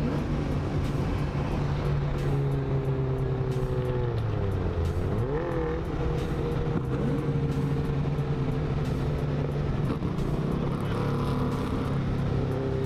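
A Cadillac CTS-V races a Dodge SRT-4, engines droning loud and steady with a rising and falling pitch as the cars accelerate and shift, plus a high whine over constant road and wind noise.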